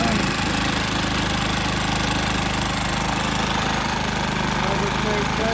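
A Harbor Freight Predator generator engine, freshly rebuilt with a new piston, connecting rod and gaskets, runs steadily up close with a loud, even mechanical drone and a rapid knocking pulse throughout.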